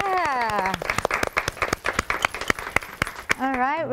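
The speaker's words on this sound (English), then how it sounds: "let's have a round of applause for Rosario" An audience applauds a guest being welcomed on stage, with sharp uneven claps and some cheering in the middle. Voices speak before and after the clapping.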